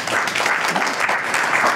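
A comedy-show audience clapping their hands together, a dense, steady patter of applause filling the room at full volume for the whole brief moment.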